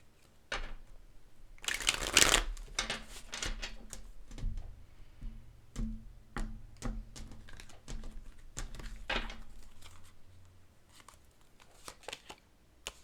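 Tarot cards are shuffled by hand in a close, crisp burst of riffling, followed by a run of light taps and flicks as the deck is handled, with no talking.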